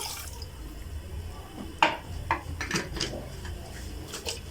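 Water splashes and trickles into a pot amid a few light metallic clinks of kitchenware, fairly quiet and close.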